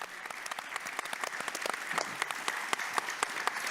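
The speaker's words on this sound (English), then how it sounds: "I'd like to thank our audience for clapping of hand" Audience applause at a forum's small stage, a moderate crowd clapping with distinct individual claps audible in a brisk, continuous patter.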